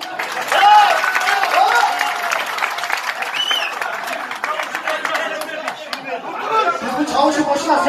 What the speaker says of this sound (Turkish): Bravo. Çamsur'da bir alkış.